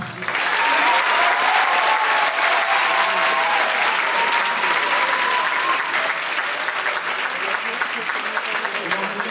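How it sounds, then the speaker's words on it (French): Sustained applause from a large audience at a film presentation, dense and steady throughout, with faint voices mixed in and a slight tapering toward the end. "vos applaudissements"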